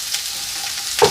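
Peas tipped into a hot pan with onion and mustard seeds, a steady close sizzle running throughout and swelling into a louder burst of frying at the end.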